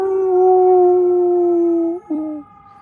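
A pet dog howls in one long, loud, sustained note close by, then breaks briefly and ends with a short wavering howl, prompted by a fire truck siren.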